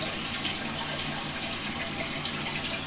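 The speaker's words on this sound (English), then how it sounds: "is automatically starting to fill the toilet" A toilet tank refills with water after a flush on a Toiletvator TV300 installation, giving a continuous hiss of running water that stays even and moderately loud throughout.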